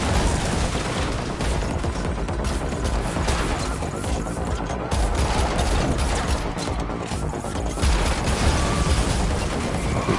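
Gunfire from the Unreal Engine 5 Matrix demo, a dense, continuous barrage of shots and crashes mixed with loud game effects throughout, with no clear pauses.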